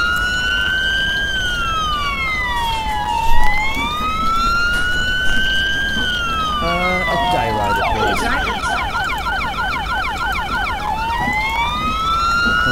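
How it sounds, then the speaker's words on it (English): An ambulance siren in the OMSI 2 bus simulator game wails loudly and continuously, rising and falling, then switches to a faster yelp pattern. A passenger briefly speaks over it. "That ambulance isn't trying to get past."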